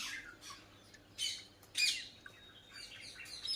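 Parrots feeding on rice give several sharp, harsh squawks in separate bursts, moderately distant and fairly faint against a quiet outdoor background.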